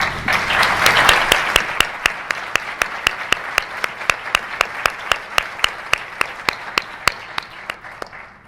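An audience at a keynote speech claps for the parents. A burst of broad applause quickly settles into sharp, evenly spaced claps that keep a steady beat and fade slightly toward the end.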